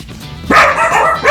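Dogs indoors bark loudly and close by, a sharp yelp followed by a sustained bark and a second bark at the end, with no talking over them.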